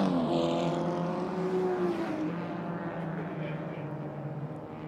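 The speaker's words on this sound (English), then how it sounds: "That is a Ferrari 250 GT Berlinetta from 1962." A 1962 Ferrari 250 GT Berlinetta race car drives at the Hungaroring, its engine a loud, steady roar with a rising tone near the start that slowly fades as it pulls away.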